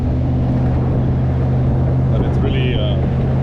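A V8-engined Austin Healey 3000 under way, a loud, constant low engine drone and road rumble filling the cabin while someone talks over it.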